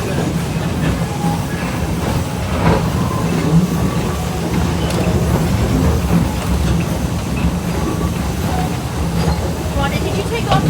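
A continuous rumbling ride aboard an East Broad Top Railroad train, steady wheel and car noise throughout with faint clicks, and people chatting underneath.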